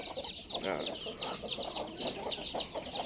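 Chickens cluck in quick, repeated bursts close by, a busy steady chatter of short calls with no pauses.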